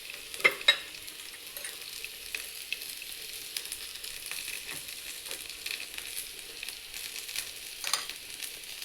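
Whole spices, ginger and garlic roast in a pan with a soft, steady sizzle, broken by a few sharp clinks of a spoon stirring early on and again near the end.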